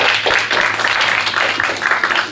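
A festival audience at an environmental youth event in Avallon applauds, a dense steady wash of many hands clapping at close range that holds for the whole stretch without a break.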